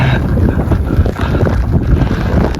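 Strong, steady wind roars and buffets throughout a snowstorm with zero visibility, a dense continuous rush of broadband noise with gusty swells and no voices.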